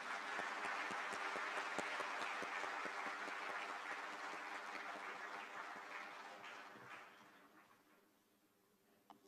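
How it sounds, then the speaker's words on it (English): An audience applauds at the Indian Statistical Service celebration of 75 years of the National Sample Survey. The clapping is dense and sustained, then thins and fades toward the end. "A huge round of applause, please."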